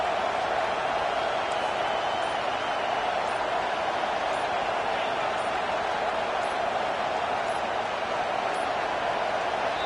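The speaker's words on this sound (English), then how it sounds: "Listen to this crowd just shaking the girders of this place" Stadium crowd roaring in an American football video game, a dense, steady wall of cheering and noise that holds at constant loudness throughout, with no clear individual voices standing out.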